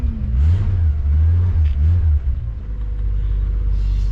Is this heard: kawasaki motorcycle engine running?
yes